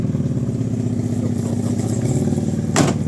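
A small engine started with a button and wires runs close by, throbbing steadily with a rapid pulsing rumble, and a short sharp clatter sounds near the end.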